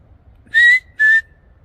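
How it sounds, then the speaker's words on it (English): Two short, clear whistle notes sound one after the other in quiet woods at night, each about a quarter second long and fairly loud, with a faint tail between them over low background rumble. "he hears a faint whistle echo through the trees"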